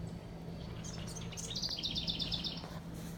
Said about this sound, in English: Listening to the birds out here in the morning